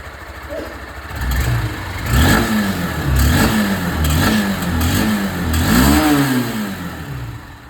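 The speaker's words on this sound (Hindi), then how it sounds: "दोनों बाइक की जो एग्जॉस्ट साउंड है दोस्तों वो आप लोगों ने यहाँ पर सुन लिया" Honda Unicorn 160 motorcycle exhaust, its single-cylinder engine revved in repeated rising and falling blips over a steady idle, close and loud, with no talking.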